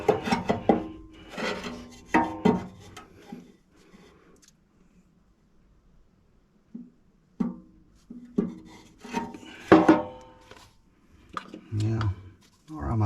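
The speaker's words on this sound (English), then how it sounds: "I'm going to trim that corner off so I can go up inside like so to the top" Brief rasping cuts as a corner is trimmed off a Hunter stove fire brick, a few short scraping bursts at close range with quiet gaps between them, alongside some talk.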